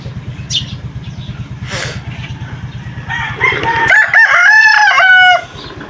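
A rooster crows loudly and close by, one long drawn-out call in the second half over a steady low rumble of a running engine nearby.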